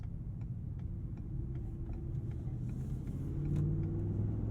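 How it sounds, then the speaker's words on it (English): A 2021 Ford F-250 Super Duty Tremor with a 7.3L V8 and 10-speed automatic cruises along, its engine a low, steady, quiet rumble that swells slightly toward the end, with faint ticking in the cabin. "it's a very smooth engine"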